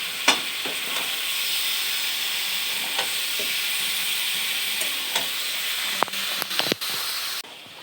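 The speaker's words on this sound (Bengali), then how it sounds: "এখন মাংসটা কষাচ্ছি" Meat braising in a pan, a steady hissing sizzle with intermittent spoon scrapes and knocks while it is stirred, close and alone without voices.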